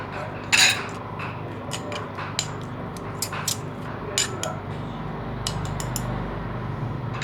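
Pork belly being stirred with fish sauce in a pan, with metal utensils scraping and clinking against the cookware in scattered bursts, one louder clatter near the start, quiet and close with no talking.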